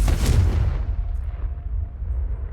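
A Confringo fire spell bursts with a loud, heavy boom in Hogwarts Legacy, then rumbles and decays over a couple of seconds.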